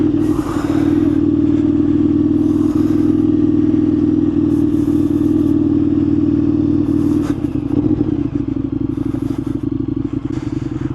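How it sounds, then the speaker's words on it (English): An Indian FTR1200 motorcycle's 1203cc engine drones steadily at close range with a strong low hum, joined by scattered clatter and scraping as it rides over rough dirt. "this big 1203cc engine can really get you in trouble here."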